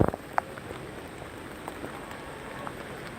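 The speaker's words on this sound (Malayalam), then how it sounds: "നല്ല മഴയാണ്" Steady rain pattering on a surface along a highway service road, an even wash of drops with a few louder taps near the start; no talking.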